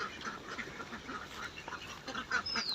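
Ducks quack and chatter at close range around their feeding time, a busy overlapping cluster of nasal calls with no talking.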